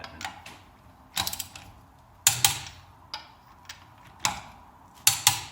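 Socket wrench tightening the front Brembo brake caliper bolts on a 2016 Mustang GT Performance Pack, heard up close as several short bursts of ratcheting clicks separated by pauses, with no talking.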